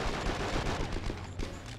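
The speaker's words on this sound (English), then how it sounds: "Dude, suppressing fire." Suppressing gunfire in the PS2 video game Conflict: Desert Storm 2 comes as a dense, continuous rattle of rapid shots, loud and close, briefly thinning near the end, with no voices.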